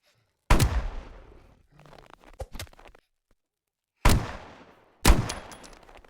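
Rifle gunfire in the Roblox game 99 Nights in the Forest: three loud, sharp shots, one early and two close together near the end, with quieter clicks and handling noises in between.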